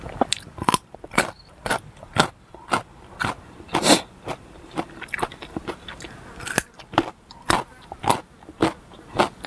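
Crunchy, dry food is bitten and chewed close up in a steady rhythm of sharp, crackling crunches over about nine seconds, with no talking.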